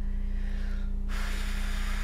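A single steady breath hisses out through the nose, close and continuous, with a low hum running underneath.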